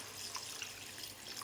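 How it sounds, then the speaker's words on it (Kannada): Water pours steadily into a pan of chicken gravy in a home kitchen, a faint, even trickling and splashing that runs for the whole moment with no talk. "ಅರ್ಧ ಚೊಂಬಷ್ಟು ನೀರು ಹಾಕ್ತಾಯಿದ್ದೀನಿ"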